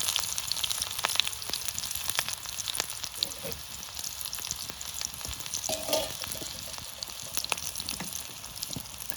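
Chopped onion fries in hot oil for Bengali aloo dum, giving a close, steady crackling sizzle with a few faint stirring sounds and no talk.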